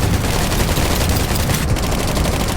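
Continuous gunfire from several weapons at once in Garena Undawn, a dense, loud barrage of overlapping shots with no pauses, filling the whole stretch without any voices.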